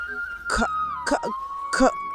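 An elderly woman coughs in three short, rasping bursts spaced apart, over a faint steady tone in the background.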